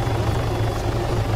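Helicopter in the video game Arma 3, a loud steady rotor thrum and engine whine heard up close with no pause.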